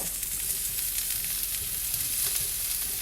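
Okra sizzles on an outdoor grill, a steady close hiss and crackle that holds at an even level for a few seconds, with no voices.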